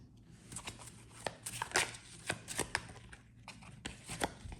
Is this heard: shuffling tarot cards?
yes